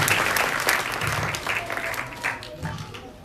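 Loud applause from students and staff welcoming a guest at a village primary school function, a dense steady clatter of clapping throughout with a voice speaking over it.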